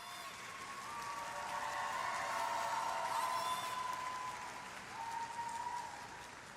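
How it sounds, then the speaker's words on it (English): A figure skating arena crowd at Skate Canada International rises in a standing ovation after a women's free skate, and dense applause swells steadily, with a faint cheering tone carrying over the sustained clapping. "Well, it's a well-deserved standing ovation."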